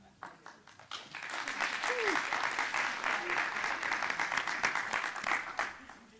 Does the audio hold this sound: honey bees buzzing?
no